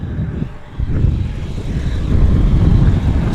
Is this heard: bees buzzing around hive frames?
no